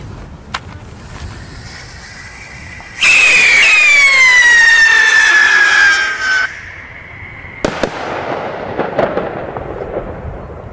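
A siren rocket firework launches at New Year's Eve with a loud, rising then gliding whistle-shriek lasting about three seconds, cutting off abruptly, followed by scattered crackling bangs from other fireworks nearby.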